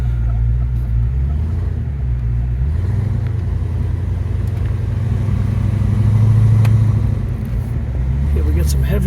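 A 1993 Ford Mustang convertible drives around in circles, its engine a steady close low rumble that swells slightly midway, with voices talking over it.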